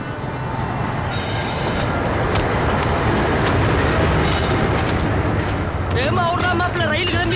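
A train pulls out of a station with a loud, continuous rumble of rolling wagons and clattering wheels, rising squeals toward the end, and voices faintly mixed in.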